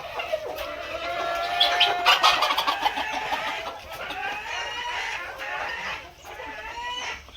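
Free-range village chickens cluck and call repeatedly outdoors, close and fairly loud, with a busy overlapping rhythm and no talk over them.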